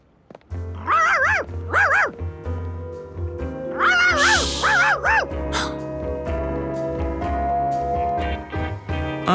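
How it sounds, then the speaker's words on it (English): A cartoon dog barks in two quick double-yap bursts, then a longer run of excited barks around the middle, loud and close, with a low musical score running beneath throughout. "A barking Charky was even worse than a puddle."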